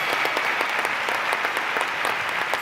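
An audience at a talk on drug legalization gives steady, even applause, a continuous close wash of many hands clapping throughout with no voices standing out.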